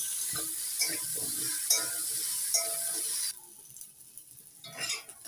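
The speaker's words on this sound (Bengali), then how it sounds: "এবার দিয়ে দিচ্ছি লবণ, হলুদ। এবার ভেজে নিচ্ছি।" Potato and cauliflower pieces fry with salt and turmeric in a pan, a steady hiss of sizzling oil with a few scraping stirs, then the sizzle suddenly drops away, leaving quieter clinks and stirring.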